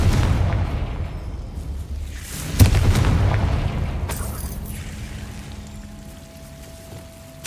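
A booming Confringo spell blast in Hogwarts Legacy erupts loudly near the middle, then rumbles and crackles away, followed by a smaller burst and a quieter fading tail, with no talk.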